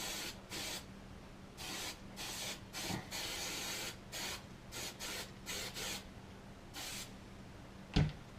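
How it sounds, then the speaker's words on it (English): Hairspray hisses onto an umpire's shoe in about a dozen short, separate bursts of varying length, fairly quiet and close, with a single knock near the end. "So the only thing I have to do is I have to spray them with the hairspray."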